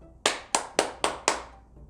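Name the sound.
hands clapping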